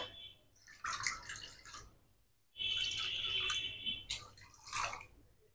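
Water is poured into a pot for cooking semolina in two close, trickling bursts separated by a brief pause, with a few drips and splashes trailing off afterward.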